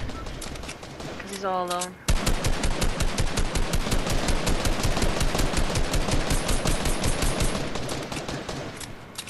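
Rapid, sustained automatic gunfire in the video game Fortnite, loud and close, rattling steadily for about seven seconds after a short spoken line at the start.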